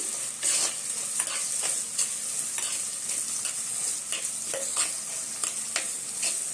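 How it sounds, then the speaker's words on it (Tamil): Small shallots and crushed garlic sauté in hot oil for a fish curry, a steady close sizzle broken by repeated scraping stirs of a spoon against the pan. "நல்லா வதக்கி விட்டுடலாம்"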